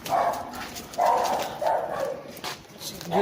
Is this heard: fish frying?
no